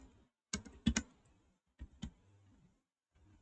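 A handful of computer keyboard keys tapped in short clusters, close and fairly quiet, separated by brief pauses, without any talking.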